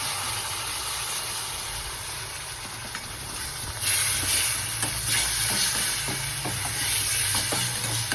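Chole masala and tomato paste fry and sizzle in a pan, a steady hiss with scraping stir strokes that grows louder midway, no voices.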